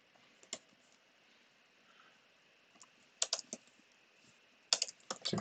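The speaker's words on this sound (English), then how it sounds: "Let me just try manually typing this in." Bursts of typing on a computer keyboard during React web coding, with scattered single clicks and then a denser flurry of keystrokes at the end, close and fairly quiet with no talking.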